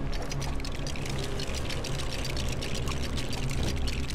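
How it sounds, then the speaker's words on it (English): A water gun sprays steadily in LEGO Batman 3: Beyond Gotham, a continuous rushing, pouring hiss of water that runs without a break and without talk. "Yeah, I'm just watering the area."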